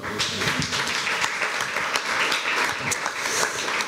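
Audience applause for a speaker at a responsible-catering leaders' session, a dense, steady clapping from many hands held at an even level throughout, close and fairly loud with no voices over it.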